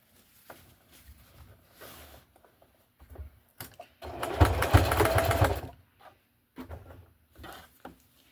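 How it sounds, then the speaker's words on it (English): Sewing machine stitching layered cloth for period underwear, one loud close run of stitching lasting about a second and a half among scattered fabric handling and clicks. "And then stretch and sew around again."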